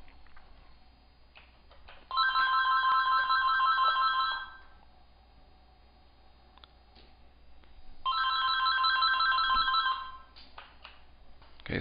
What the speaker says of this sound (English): The phone just rang, and I had to look at it and decide not to answer.